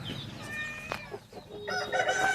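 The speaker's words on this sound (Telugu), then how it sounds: "మెదక్ జాతి కోళ్ళు." Medak breed chickens on a farm, a rooster crowing in a drawn-out call among scattered clucks from the flock, fairly faint and close.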